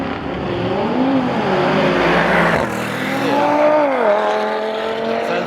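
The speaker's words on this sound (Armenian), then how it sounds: "222 կուզով Mercedes-ա։ Քշում է Audi-ի հետ։" A Mercedes W222 races an Audi, engines roaring loud and steady with rising and falling pitch as the cars accelerate and shift, heard close for several seconds with no talk.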